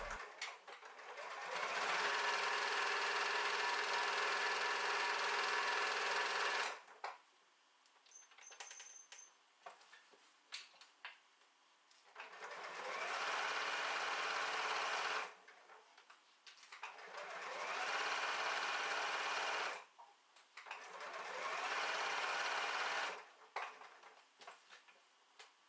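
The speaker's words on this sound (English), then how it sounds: "Sew the pocket into place down the side edges and across the bottom fold." A sewing machine stitches a pocket onto a tote bag in four long, steady whirring runs, with quiet pauses of fabric handling and small clicks between them.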